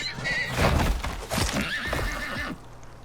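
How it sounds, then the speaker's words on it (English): Horse in the video game Icarus, a close neigh and whinny with clip-clopping hooves, fairly loud, ending abruptly after a few seconds. "there's a horse right on us"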